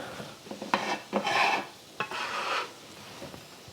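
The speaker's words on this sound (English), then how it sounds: "I'm just gonna add my onions and the white parts of the green onion. And we're gonna cook that through." Onions and white parts of green onion cook in vegetable oil in a pan, heard as close scraping and stirring against the pan over a faint sizzle, with no talk.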